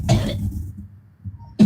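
A man coughs: one harsh burst at the start, a few quieter rasping follow-ups, then another sharp cough at the end, close and loud.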